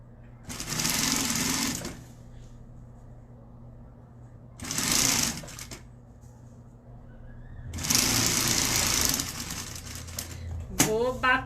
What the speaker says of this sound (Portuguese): Vou bater a costurinha nessa outra lateral.